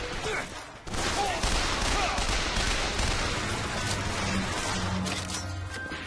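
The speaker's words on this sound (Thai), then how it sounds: "กระสุนไม่หมดสักทีใช้ปืนนี้นะ" Dense gunfire fills a firefight in the video game Bioshock Infinite, a continuous loud barrage of shots and blasts throughout with no clear pauses.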